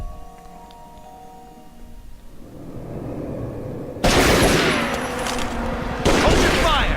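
Gunfire in the Tomb Raider Legend video game, heard first as a low rumbling background and then as two loud, dense volleys of shots that start abruptly near the end.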